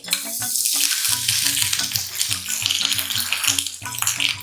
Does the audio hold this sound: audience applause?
no